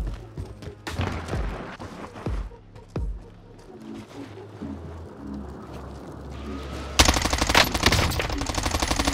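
XM4 submachine gun fire in the shooter Warzone, with several scattered single shots at first, then a dense, loud automatic burst near the end, all under faint in-game sound.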